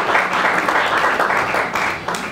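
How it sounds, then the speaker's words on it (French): A dense, loud roar of audience clapping at a Congolese gospel music conference honoring musicians, continuous and full throughout with no break. "vos acclamations s'il vous plaît"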